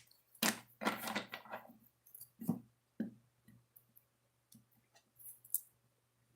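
Oracle cards shuffled by hand give a run of soft, dry clicks and flutters in short bursts with pauses between, close and fairly quiet.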